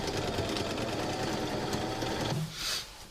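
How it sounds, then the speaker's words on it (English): A sewing machine stitches a straight seam in a fast, steady mechanical whir, running loud and close before stopping abruptly near the end, followed by a brief softer whirring. "I'll do a straight stitch down, I'll do a zigzag stitch, and then I'll do another straight stitch."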